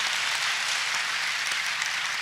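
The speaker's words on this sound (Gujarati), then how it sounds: "પૂજ્ય ગુરુજીને એક વખત જોરદાર તાળીઓના નાદ સાથે વધાવો" Sustained applause from an audience at a Gujarati comedy gathering, loud and steady for a couple of seconds.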